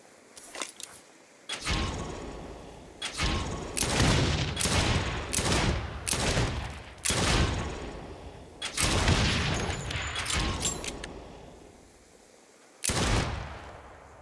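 Gunfire during shooting practice in Saints Row on PS5, repeated loud close bursts of shots in uneven clusters separated by short pauses, with a final isolated burst near the end.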